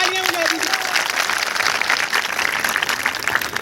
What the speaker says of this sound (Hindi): राम सिंह सर तो जोर से तालियां बजा दीजिए